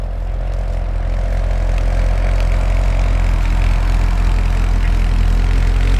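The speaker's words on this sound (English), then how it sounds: "the vehicle's at idle like it is now" A 2011 Chevrolet Corvette Z06 Carbon Limited Edition with quad center-mounted exhaust idles, a steady deep rumble held evenly throughout, close and loud with no talk.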